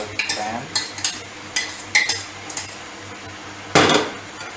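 A spatula stirs paneer cubes in a pan of green spinach curry for palak paneer, with irregular metallic clinks and scrapes against the pan and a louder clatter near the end, close and unaccompanied by speech.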